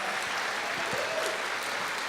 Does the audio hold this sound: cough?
no